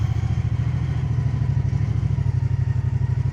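A 2024 Moto Guzzi Stelvio touring motorcycle with a brand-new engine runs steadily up close. Its loud, even, throbbing pulse continues alone without a break.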